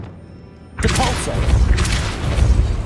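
A Depulso spell cast in the Hogwarts Legacy video game lets out a sudden booming burst after a quiet start, then a sustained whooshing, rumbling magical blast with a dense, loud texture that fills the rest of the moment.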